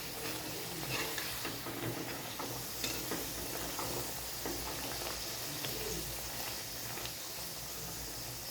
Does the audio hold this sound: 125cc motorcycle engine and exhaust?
no